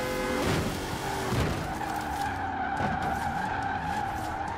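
A 1973 Land Rover Range Rover drifts in the racing game Forza Horizon 4, its tires skidding and squealing in a loud, continuous screech over a steady engine drone, with a few harder lurches early on.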